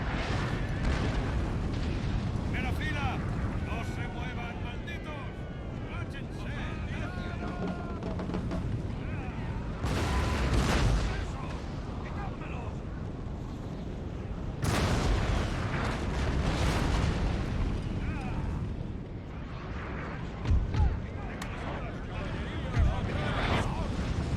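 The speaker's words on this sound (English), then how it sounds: "These cannons are getting so many ranks from this" Cannon fire in a Napoleon: Total War battle as Great Britain, with heavy repeated booms and a dense rumble of battlefield noise that swells at several points, while someone talks over it throughout.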